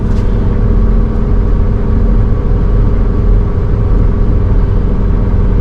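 Loud, steady mechanical rumble from a forage harvester (chopper) running with its separator and cutter head engaged, close up and continuous with no break or speech.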